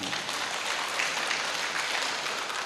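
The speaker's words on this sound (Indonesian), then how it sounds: "Tepuk tangan ya karang." Applause from an audience at an Islamic lecture gathering of Muhammadiyah members, a steady broadband wash of many hands clapping throughout, moderately loud and continuous with no talk over it.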